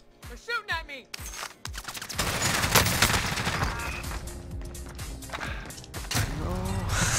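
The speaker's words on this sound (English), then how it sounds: "They're shooting at me!" Bursts of rapid enemy gunfire in a first-person shooter crackle loudly and continuously for several seconds, with thuds and impacts mixed in; a player speaks briefly over the opening shots.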